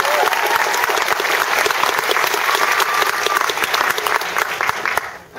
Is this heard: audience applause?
yes